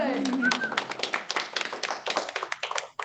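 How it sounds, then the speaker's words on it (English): A theatre masterclass audience claps for a spoken-word performer: close, uneven hand clapping with distinct individual claps that thins toward the end, while a voice speaks briefly at the start. "And applause for Sam, please"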